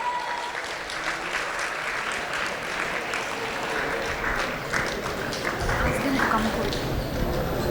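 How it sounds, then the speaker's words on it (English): Applause from an audience fills the room, steady clapping that swells slightly toward the end, with a voice faintly under it. "Let's give a big round of applause"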